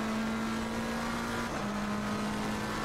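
A Lamborghini race car engine in Assetto Corsa Competizione drones steadily at high revs, loud and continuous with a slight pitch drop midway, with no talking.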